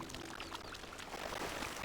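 Swimming in water in the game The Talos Principle 2 gives a soft, continuous splashing and sloshing, faint and close, with no one talking.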